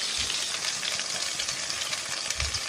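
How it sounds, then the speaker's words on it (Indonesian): Ground spice paste stir-fries in a wok in oil left over from frying shrimp, giving a loud, continuous close sizzle with scraping stirring throughout. "Nah, kita masukkan bumbu yang sudah tadi kita haluskan, kita gongsong-gongsong."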